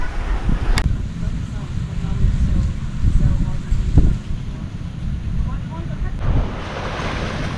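Steady ocean waves wash onto a beach near Dumaguete in the Philippines, a continuous low rumble of surf with gusts of wind buffeting the microphone and a few sharp knocks.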